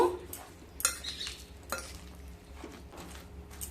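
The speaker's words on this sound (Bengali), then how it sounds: "এবার খুব ভালোভাবে মিশিয়ে নেব।" Spoon stirring oats omelette batter in a bowl, soft intermittent scrapes and a few light clinks against the bowl, fairly quiet with no talk.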